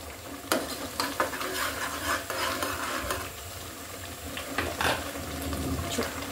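Tengra, bele and guilla fish, marinated in mustard oil and fish masala, stirred and cooked down in a pan over low heat: a steady sizzling hiss broken by scattered scraping clicks, close and alone.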